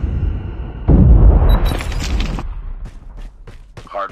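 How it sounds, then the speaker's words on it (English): A frag grenade goes off in a Call of Duty Mobile ranked hardpoint match with a heavy, loud boom and rumbling debris, followed by clicks and scattered game effects. "Grenade out!"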